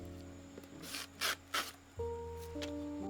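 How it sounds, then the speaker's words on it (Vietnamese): A hand peeler shaves a zucchini lengthwise into long thin slices, giving a few short rasping strokes over a steady background hum and faint tones, with no talking. "dùng dao bào lạng dọc thành những lát mỏng dài"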